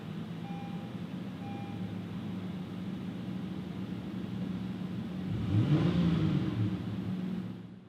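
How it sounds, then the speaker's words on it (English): A 2018 Honda Odyssey Touring minivan starts by push button, its engine catching about midway with a swell of rumble and whir, then settling into a steady idle close by. "Put your foot on the brake and push the button,"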